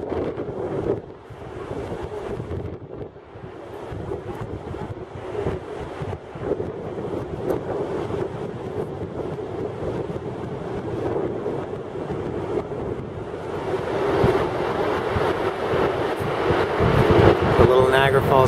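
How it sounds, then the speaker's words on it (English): Niagara Falls' American Falls, heard as a steady broadband roar of falling water mixed with gusty wind buffeting the microphone, growing louder toward the end, with occasional voices under it. "This is called the American Falls over here."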